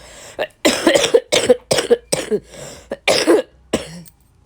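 A woman with a badly sore throat coughs and clears her throat again and again in a run of loud, close bursts with short gaps. The fits come in a steady rhythm, and no speech is heard.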